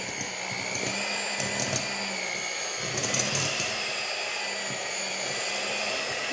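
An electric mixer works dry sausage ball dough in a kitchen, a steady motor whir with slight changes in pitch as the beaters labor, running continuously with no talk.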